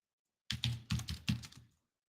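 A short flurry of keystrokes on a computer keyboard while entering a search query in Splunk, about a dozen close, quiet clicks in quick irregular rhythm, then silence.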